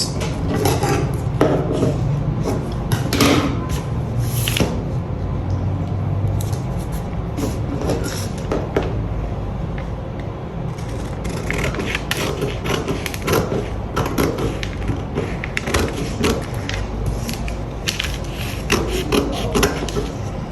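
Scissors cut out a paper sewing pattern piece for a cowl neckline, with steady scraping, rubbing and snipping against a tabletop, continuous and fairly close throughout.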